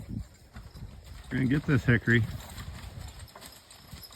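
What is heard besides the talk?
Belgian draft horses walking, hoof clip-clop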